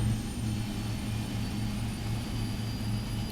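A Boeing 777-300ER jet engine spools up during start in the Prepar3D flight simulator, a constant droning roar with a soft low pulsing beneath it, steady and moderately loud throughout.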